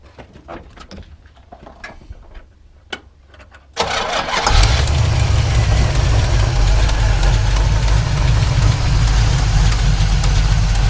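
A 1975 Pontiac Firebird Formula's 350 V8 engine with long tube headers cranks and roars to life, then settles into a loud, steady, rumbling idle after a few seconds of quiet background noise.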